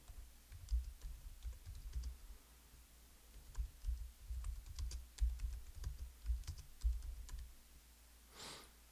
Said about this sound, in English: I'm just typing this in.